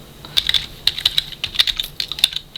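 Rapid keystrokes on a computer keyboard, crisp and close, in uneven clustered bursts of clicks with short pauses between words, no voices.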